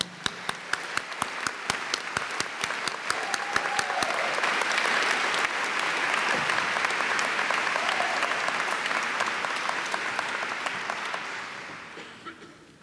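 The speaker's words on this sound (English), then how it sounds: "Please give them a round of applause." An audience at a university public policy commencement ceremony gives sustained applause, many hands clapping together in a loud, even wash that swells and then tapers off at the end.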